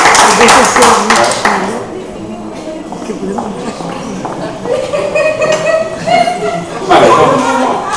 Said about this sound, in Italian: facciamo un applauso a Fatima